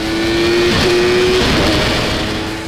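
An MV Agusta F3 675 motorcycle engine revs hard and close, a loud, sustained high-pitched howl with a shifting tone as the revs rise and ease, heard alone without talk.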